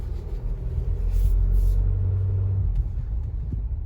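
An Isuzu MU-X 2021 runs in first gear with a steady, close, low rumble. The engine note swells slightly midway and then settles.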